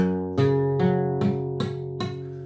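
Electric guitar power chords struck in a steady rhythm, each hit cut short by palm-muted strings, about five chugging stabs played clearly and fairly loud.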